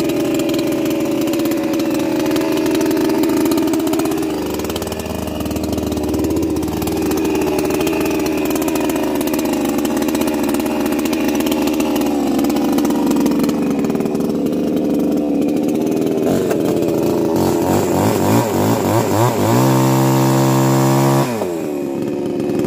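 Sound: chainsaw running

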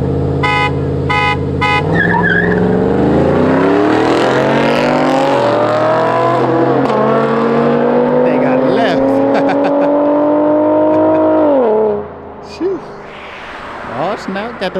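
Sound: V6 Camaro racing a truck

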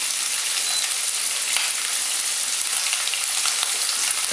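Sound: shrimp searing in oil in a pan

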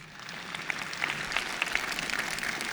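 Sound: audience applause

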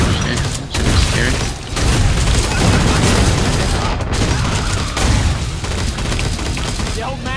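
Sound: gunfire from Killing Floor 2 video game

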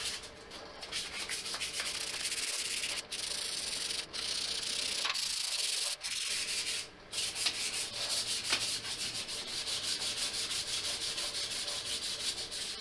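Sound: light sanding of a model part surface with sandpaper

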